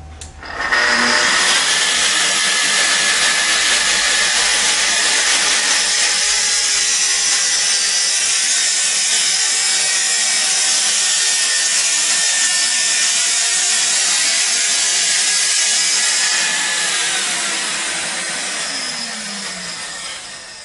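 Festool TS 55 or TS 75 plunge cut saw slicing through wood in one pass, a loud, close, steady high-pitched whine and rasp held for about seventeen seconds before winding down.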